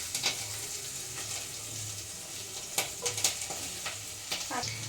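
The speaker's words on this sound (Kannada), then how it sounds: "ಮಶ್ರೂಮ್ ಸೇರಿಸ್ಕೊಂಡು ಅದನ್ನು ಕೂಡ ಚೆನ್ನಾಗಿ ರೋಸ್ಟ್ ಮಾಡಬೇಕು" Mushrooms roasting in a pan for mushroom biryani and pepper dry, a soft steady sizzle with intermittent scraping and clinks of stirring, fairly quiet and close.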